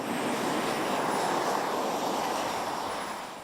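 PTERA modular multi-engine research aircraft in flight, a continuous loud broadband engine roar with a faint high whine, steady throughout and easing slightly at the end.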